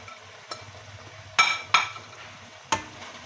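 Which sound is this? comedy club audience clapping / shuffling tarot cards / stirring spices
stirring spices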